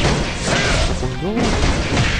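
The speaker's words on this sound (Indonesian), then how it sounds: "Hancur langsung tuh mobil." A car is smashed apart in the mobile fighting game KOF All Star, with dense crunching impact noise filling the whole short stretch, loud and continuous, with some voice-like sound mixed in.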